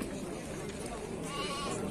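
A goat bleats amid the busy crowd noise of the livestock market in Toktogul, a short wavering call rising over steady background chatter and voices.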